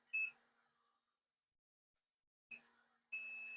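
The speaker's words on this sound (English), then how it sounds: "Let's see if it's still beeping." A faint electronic tone from a multimeter chirps once, then after a pause sounds again briefly before settling into a steady, sustained beep, during short circuit testing of a mini PC.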